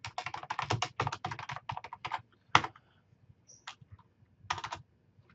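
Fingers type on a computer keyboard in quick bursts of sharp, close clicks, followed by a few isolated key presses and short pauses.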